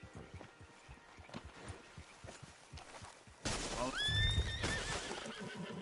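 Horses neighing in Red Dead Redemption 2: after soft hoof steps and rustling, a loud, high whinny rings out close by, with a voice talking over it.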